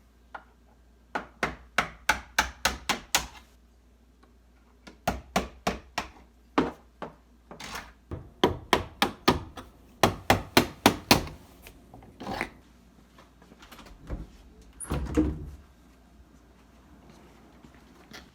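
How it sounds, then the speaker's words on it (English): Hammer and screwdriver driving hinge pins up out of a door, a series of sharp, close metallic taps in quick bursts of four to six strikes separated by short pauses. "You can put your screwdriver on the bottom and send the pin up through the hinge."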